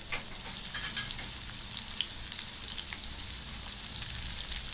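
Chopped garlic frying in oil as tempering for a Sri Lankan lentil curry, giving a steady close sizzle with small crackles and pops throughout, no voices.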